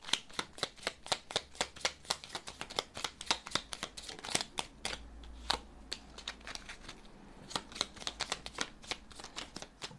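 Small oracle cards from a Pandora deck being shuffled by hand: a quick run of crisp riffling snaps and flutters, close and alone, with a brief pause midway before the shuffling resumes.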